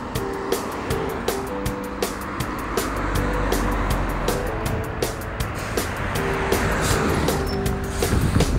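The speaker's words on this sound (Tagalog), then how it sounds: "Andiyan na yung bus." A city bus pulls in at a stop in South Korea, its engine rumbling steadily with hissing and clattering over the full length amid street noise, and no voices stand out.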